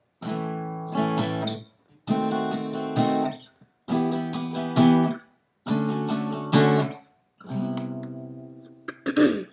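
Strummed guitar chords in a slow progression, four ringing strums separated by brief pauses, each left to sustain before the next chord change.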